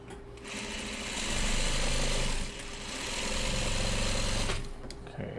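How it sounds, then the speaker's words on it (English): A sewing machine stitches a long fabric strip down the center of a piece late at night, its rapid mechanical whir running steadily in two bursts with a brief slowdown between, close and fairly loud. "Then we sew the big strip down the center."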